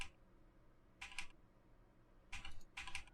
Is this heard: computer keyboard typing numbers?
yes